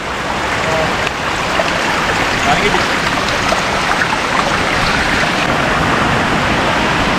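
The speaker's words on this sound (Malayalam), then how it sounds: "മഴ ശരിക്കും ഇറച്ചു വന്നു തുടങ്ങിയിട്ടുണ്ട്" Heavy rain pours down in a steady, dense roar that stays loud and unbroken throughout, with no pauses.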